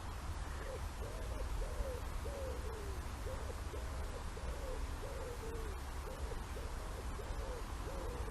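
An owl hoots repeatedly in a steady rhythm, soft low calls repeating about every half second over a constant background hiss.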